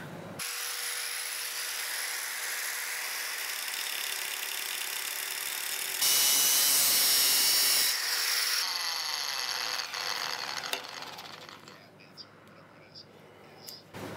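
A handheld power tool grinds lines into a steel sword blade, a continuous harsh whirring roar that surges louder midway before tapering off into scattered faint scrapes and clicks.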